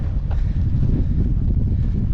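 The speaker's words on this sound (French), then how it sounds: "toujours autant de vent pour l'instant" Steady wind rumbles and buffets against the microphone during a mountain trail race in the Pyrenees, a low continuous roar with no voices.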